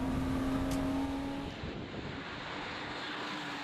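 Porsche race cars lapping Oulton Park, an engine drone with a steady tone fading as the cars pass and recede, continuous and moderately loud.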